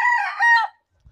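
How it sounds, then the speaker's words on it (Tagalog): A rooster crows once at close range on a small backyard farm, a loud strained call lasting under a second, followed by a brief low thump and quiet. "Mga manok diri"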